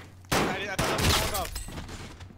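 Close rapid bursts of automatic gunfire in the Call of Duty Warzone video game, two loud volleys back to back with a faint voice underneath.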